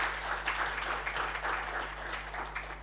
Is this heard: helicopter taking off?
no